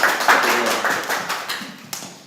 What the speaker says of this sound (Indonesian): Boleh kasih tepuk tangannya dulu.